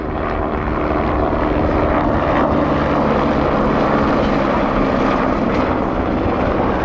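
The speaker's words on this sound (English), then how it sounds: "here is the view after we get a picture of this chopper" A helicopter's steady, loud rotor and engine drone fills the whole stretch, constant and close with no voices over it.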